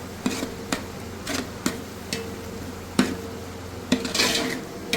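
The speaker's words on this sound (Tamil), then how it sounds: "இது எல்லாத்தையும் நல்லா ஒன்றா கலந்து விடுங்க" Chicken and biryani masala being stirred together in a pot for chicken biryani, with a spoon scraping and knocking against the metal in several sharp clacks spread unevenly over a low background hum.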